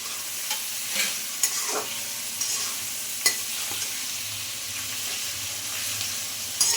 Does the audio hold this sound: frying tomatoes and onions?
yes